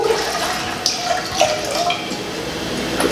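Milk poured in a steady stream into a pot for pumpkin spice hot chocolate, a continuous liquid splashing and gurgling close up, with small clinks over it.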